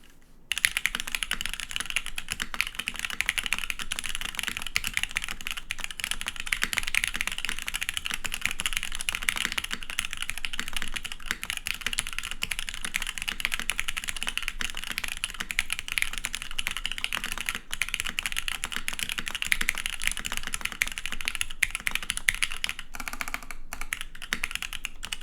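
Typing on a custom Static Archive Heartbreak TKL mechanical keyboard with an aluminum plate and spring-swapped, film-lubed switches, a rapid, continuous stream of crisp clacks up close, no talk.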